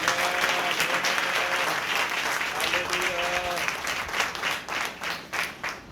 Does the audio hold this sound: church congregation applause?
yes